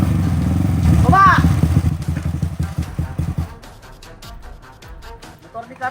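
A man's motorcycle engine rumbles and revs up close in a steady throbbing drone, then cuts off, leaving softer clattering and knocks, with people talking over it.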